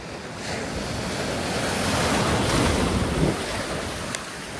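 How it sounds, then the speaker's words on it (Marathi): Big sea waves crash and surge around a small fishing boat out at sea during prawn fishing, its engine switched off. The roar is loud and continuous, with gusty wind buffeting the microphone and a sharper splash near the end. "बघू शकता कसली मोठी लाट आली."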